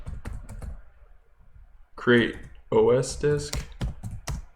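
Quick clicks of computer keyboard typing at a gaming PC, a run of keystrokes early on and more taps scattered between and after a few spoken words.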